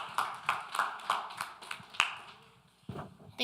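A small audience at a National Action Network meeting claps in scattered, uneven bursts, each a sharp, fairly close handclap, with a brief lull before a final few claps.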